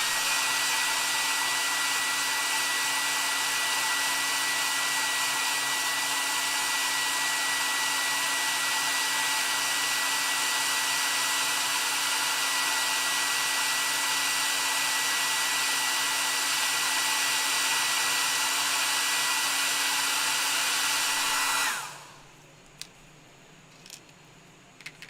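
A hair dryer blows loud and steady for about twenty seconds to speed-dry freshly painted Warhammer 40,000 miniatures, then switches off, leaving a quiet room with a few small ticks.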